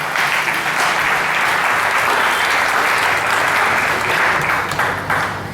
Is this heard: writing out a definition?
no